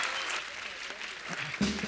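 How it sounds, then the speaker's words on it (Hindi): Studio audience clapping for a guest on a Hindi comedy talk show, a short burst of moderate applause with some crowd noise underneath. "जोरदार तालियां दिव्या जी के लिए।"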